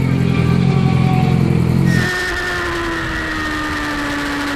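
Yamaha R6 600cc sport motorcycle engine revving high, a loud sustained rev that drops abruptly partway through into a steadier lower-pitched running tone.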